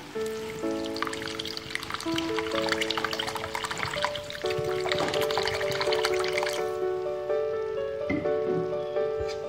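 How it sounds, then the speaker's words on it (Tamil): Water pours into a pan of egg kulambu with a steady liquid splashing and trickling wash that lasts throughout, under background music. "இப்போ இந்த கொழம்புக்கு தேவையான அளவு தண்ணி சேர்த்துக்கலாம்."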